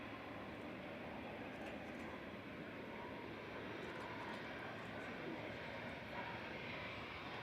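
A fixed-wing airplane passes at Manchester Airport, a broad, steady engine roar that holds at an even level throughout with no clear rise or fade.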